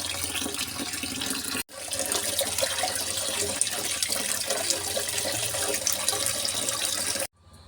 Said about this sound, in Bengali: আমি নিরামিষ তরকারি ধুয়ে নিলাম।